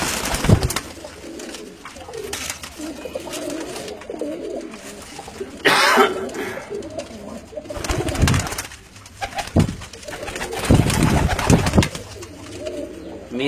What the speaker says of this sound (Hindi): ये उन्होंने घर के कबूतर ने जी